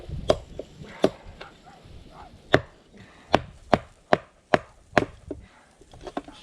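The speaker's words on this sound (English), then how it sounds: "Just chopping up chunks of wood that I had inside from the shed that I was building." Chunks of oak wood, leftover scrap from building a shed, chopped indoors for firewood: a dozen sharp, loud chops in an uneven rhythm, spaced about half a second to a second apart, with no talking.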